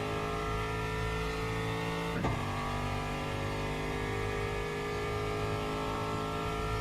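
A Porsche GT3 race car in Le Mans Ultimate drones from the cockpit with a thin, steady engine note that briefly dips mid-shift, then holds level, heard alone and fairly loud.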